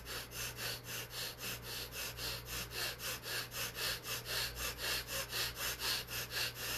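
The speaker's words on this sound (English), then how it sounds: "we do the basic fire dragon technique or the breath of fire" Breath of fire breathing exercise: rapid, evenly spaced forceful breaths, roughly three per second, steady and close but fairly quiet over a low background hum.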